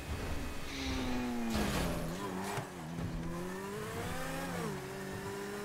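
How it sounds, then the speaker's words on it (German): A car engine in the video game GTA 5 Online runs steadily, rising and falling in pitch as it revs, with some tire noise. A faint background of game sound sits beneath it, and there is no talk. "Oh, mein Motor macht komische Geräusche."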